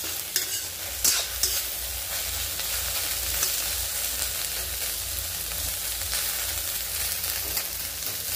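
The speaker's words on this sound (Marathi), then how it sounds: "थोडी साईडला करायची म्हणजे चिकट होत नाही आणि चटके सगळ्या साईडनी बसतात भेंडीला।" Okra (bhindi) frying in a hot pan for masala bhendi, with a steady close sizzle throughout and a few sharp spoon scrapes and taps near the start as it is stirred; no talking.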